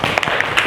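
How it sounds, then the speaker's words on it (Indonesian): A classroom of students gives a quick burst of clapping, loud and close, lasting under a second with a few sharper individual claps standing out. "Terima kasih, tepuk tangan."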